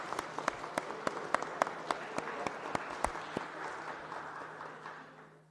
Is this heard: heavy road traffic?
no